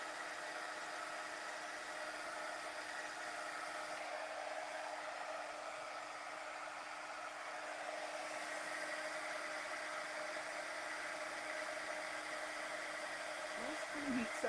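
A heat tool blows a steady, even whir while it heat-sets embossing powder on a card, running continuously and moderately loud.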